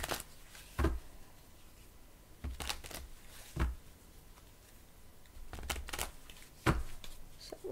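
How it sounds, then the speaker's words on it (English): Tarot cards being shuffled by hand, several brief riffling bursts and soft slaps spaced a second or so apart, close but fairly quiet over a low background hiss. "I really want to give these a good shuffle."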